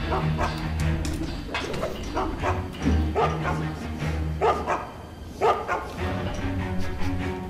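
A guard dog in the stealth video game Mark of the Ninja barks and yips repeatedly over game background sound, a run of loud, sharp barks with short whimpers between.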